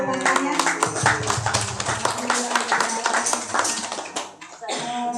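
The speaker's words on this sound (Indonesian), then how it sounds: "ya, tepuk tangan, tepuk tangan" Children and an audience applaud at a preschool celebration in Semarang, Indonesia, a dense, steady burst of clapping with scattered voices mixed in, close and fairly loud throughout.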